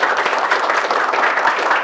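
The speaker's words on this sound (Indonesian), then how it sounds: "Mari beri tepuk tangan yang meriah untuk Bapak Aditya Warman." Close, loud audience applause welcoming a speaker to an entrepreneurship session, a dense, unbroken wash of many hands clapping at once.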